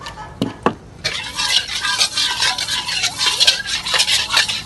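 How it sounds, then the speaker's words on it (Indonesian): Spice paste mixed with shrimp paste stirred and sautéed in hot oil in a pan, with steady close sizzling and repeated scraping and clinking of a utensil against the pan after a brief quieter start. "Untuk bumbunya ditumis."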